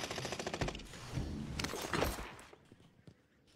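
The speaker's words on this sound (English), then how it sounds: "There's guys up here shooting at that guy that I just downed" Gunfire in the video game Warzone, heard as rapid, rattling bursts of automatic shots with some scattered single cracks, fairly faint and fading out near the end.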